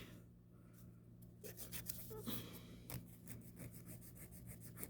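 A nail file rasping against a fingernail during a French tip dip powder manicure, soft irregular scratchy strokes, close and faint over a low background hum.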